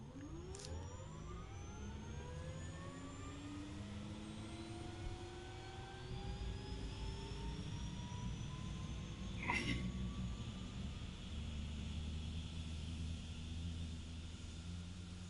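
Aircraft engine spinning up in a video game, a low rumble rising into a swelling turbine whine that climbs steadily in pitch, joined by a brief hiss and growing roar, heard alone and fairly quiet.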